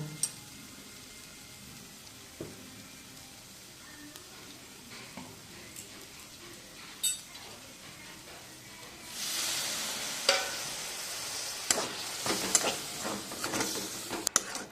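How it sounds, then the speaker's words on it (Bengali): Spice paste with turmeric powder sautéed in a pan with a splash of water over a low-medium flame, quiet stirring at first, then a louder burst of bubbling hiss and spatter with scraping strokes. "সামান্য জল দিয়ে মশলাটাকে কষিয়ে নেব।"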